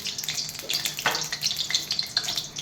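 A dried red chilli, three cardamom pods and cumin seeds are dropped into hot oil, setting off a close, bright crackling sizzle with a sharp burst near the middle that keeps fizzing and popping.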